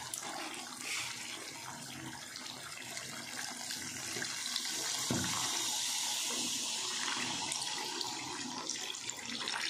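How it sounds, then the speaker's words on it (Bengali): Water pouring into a pot of meat curry cooked without potatoes, a steady splashing rush of liquid heard alone at close range for several seconds. "তাহলে এবার আমি জলটা দিয়ে দিচ্ছি।"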